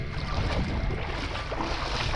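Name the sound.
boat on the water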